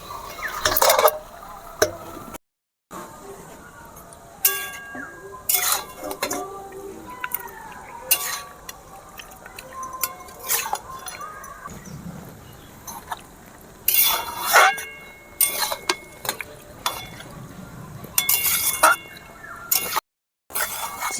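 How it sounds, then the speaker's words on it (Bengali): Marinated chicken with yogurt tipped into a pan of fried spices for chicken patiala, giving scattered stirring scrapes, clinks of utensils against the pan and soft drips and sizzles, close by and fairly loud, with brief gaps. "এবারে ম্যারিনেট করা চিকেনটা আমি দিয়ে দেব।"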